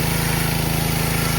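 A pressure washer runs steadily for paint peeling on a Honda Civic quarter panel, a loud, continuous engine drone with a constant pulsing hum and hiss, close by and unbroken.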